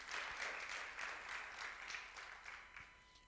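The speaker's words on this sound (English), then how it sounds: "Let's clap for it." A classroom audience at a Software Freedom Day session gives a brief, soft round of applause, a light continuous patter of clapping that tapers off, heard from some distance.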